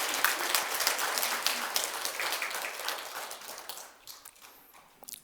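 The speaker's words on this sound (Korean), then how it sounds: "우리 하나님 앞에 다시 한번 크게 영광의 박수를 돌리겠습니다" Church congregation applause at a worship service, brisk clapping that thins out and fades toward quiet, with a few scattered claps at the end.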